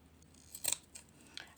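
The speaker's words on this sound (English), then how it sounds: "And trim around and cut the threads off." Sharp scissors trim around a machine-embroidered cinnamon stick reindeer made in the hoop and snip off loose threads, giving a few quick, close, quiet cuts with short pauses between them.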